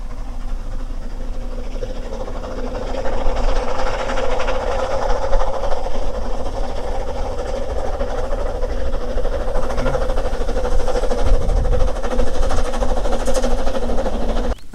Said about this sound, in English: Annoyingly though, a train just went past